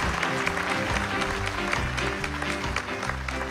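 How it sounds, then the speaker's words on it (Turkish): Steady, sustained applause fills a wedding ceremony, with Ferman clapping among the guests. The continuous dense clapping runs throughout over light background music. "Ferman'ın da bir şeyleri alkışlayası varmış, hiç bitsin istemedi alkışmak."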